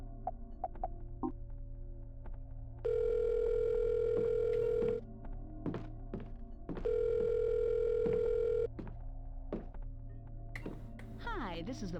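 Phone dial tone from a call in the Silent Hill: Shattered Memories video game: two steady, clear ringback tones, each about two seconds long, separated by a pause and backed by a low ambient hum.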